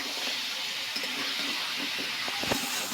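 Prawns and sweet pumpkin sizzle in a pan while being stir-fried for a Bengali ghanti, a steady close hiss with faint clinks and no talking.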